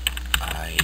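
Fingers tap a computer keyboard entering a web address, a few quick close clicks in under a second, with a voice speaking over them.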